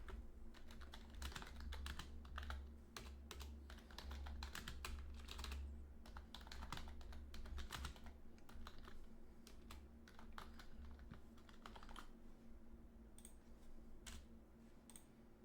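Steady typing on a computer keyboard, a dense run of quick clicking keystrokes that stays close and continuous throughout with a low hum underneath and no talk.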